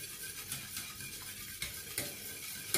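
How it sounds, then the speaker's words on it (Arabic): A spoon stirs orange milk pudding as it thickens in a pot: soft, repeated scraping strokes, close and quiet, with a light bubbling hiss beneath and no speech. "ونظل نخلط بيه على كيفنا لحد ما يثخن."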